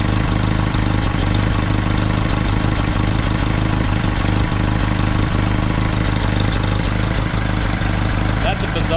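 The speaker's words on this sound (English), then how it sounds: "when it happens, the counterweight on the heat riser flutters" A car's exhaust idles steadily nearby with a low, even engine rumble throughout, while a heat riser counterweight flutters faintly and intermittently within the drone.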